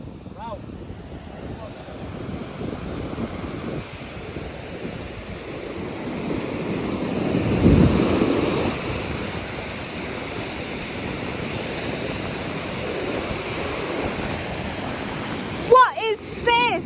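Ocean waves break on a littered beach, a low rushing wash of surf that swells to a louder crash midway then recedes into steady roar, with wind buffeting the microphone and a voice briefly at the end.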